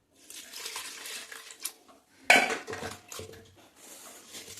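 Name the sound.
washing cut squid head and body in water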